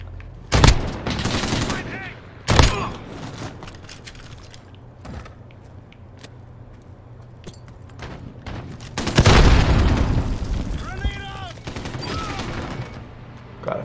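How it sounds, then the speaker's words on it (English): Bursts of light machine gun fire in a Call of Duty match: a loud volley near the start, a second shortly after, and a heavier sustained burst later, with quieter game sounds between. "I don't know how I feel about these light machine guns."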